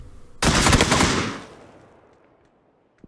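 A teammate firing a shotgun in PUBG: a loud, close burst of rapid blasts lasting about a second, then a long fading echo, with one faint click at the end.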